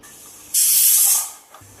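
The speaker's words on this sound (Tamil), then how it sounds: "ரெண்டு விசில் வந்தோடனே அடுப்பு ஆஃப் பண்ணலாம்" A pressure cooker of chicken gravy whistles as it vents steam: a single loud, close hissing burst lasting under a second, tapering off before a faint rumble returns.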